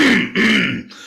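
A person clears their throat twice in quick succession, a raspy, guttural rumble close up, followed by a short quieter breath.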